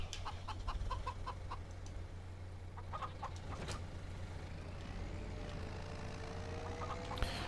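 Chickens in Farming Simulator 25 cluck in short repeated bursts over a steady low hum, with a faint vehicle-like whine rising later in the scene.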